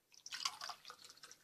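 Water poured into a glass for a Safi-style cookie dough, a quiet run of light splashing and dripping that starts after a short silence and trails off over about a second.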